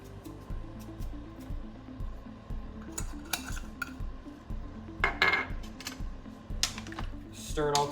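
A utensil clatters and scrapes against a pot while stirring pot roast ingredients with beef stock and thyme, a run of quick rhythmic knocks up close, alone with no talking.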